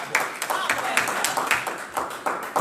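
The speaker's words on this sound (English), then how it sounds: "give yourselves a round of applause for being here" Audience at Muhammad's Mosque number 48 gives a round of rhythmic, fairly loud applause, steady close clapping with sharp individual claps standing out throughout.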